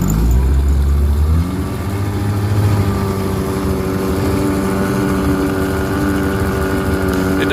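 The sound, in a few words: 1960 Evinrude 10hp outboard motor running in reverse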